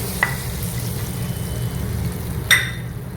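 Semiya payasam ingredients with fried raisins stirred in a pan for a toffee-caramel version, giving a steady low sizzle with a couple of sharp spoon scrapes against the pan, no talking.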